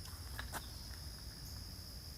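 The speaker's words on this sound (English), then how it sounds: "You can hear the crickets." Faint, steady high-pitched insect chirring of crickets or tree frogs, running continuously in the background of a quiet morning lakeside hike, with a couple of soft rustles early on.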